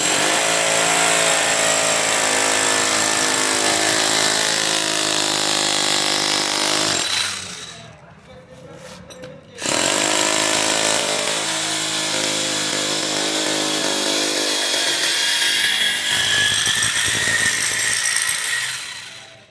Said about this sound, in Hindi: यहाँ पर 26 mm का हेल्टी ड्रिल मशीन है।